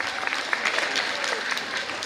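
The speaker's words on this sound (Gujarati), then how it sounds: "તાળીઓના ગડગડાટથી આપણે દાતાશ્રીને વધાવી લઈએ" An audience at a public school annual function breaks into brief, dense applause to welcome a donor, a continuous crackle of clapping with faint voices beneath.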